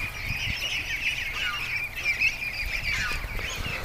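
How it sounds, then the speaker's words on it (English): A goose hisses and calls near a cluster of Muscovy ducklings outdoors on a cool morning, a steady raspy mid-high sound with faint honks, moderately close and continuous. "the goose is hissing at Doug."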